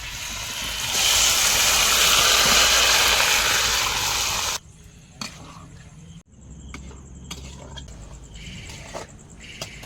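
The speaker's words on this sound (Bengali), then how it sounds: "এড করা মাংসটা এবার কড়াইতে দিয়ে দিচ্ছি।" Marinated meat hits hot oil in a wok for a village-style biryani, bursting into a loud, broad, steady sizzle for several seconds, then dropping to quieter crackles and scraping stirs.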